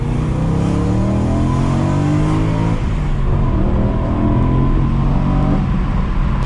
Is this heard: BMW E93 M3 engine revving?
yes